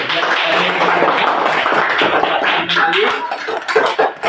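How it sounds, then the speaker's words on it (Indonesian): Students in an Indonesian classroom clap their hands together for a classmate's correct fractions answer, a dense burst of clapping that stays fairly close and loud before it breaks up near the end. "Sekarang boleh kalian beri tepuk tangan dulu."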